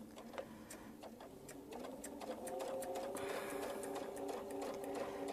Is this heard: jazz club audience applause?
no